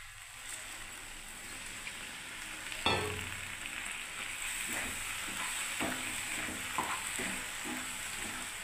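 Steady sizzling and frying of semolina upma with beans in a pan, with a sharp hiss as hot water is poured in, then continued bubbling and stirring clicks, close and unbroken.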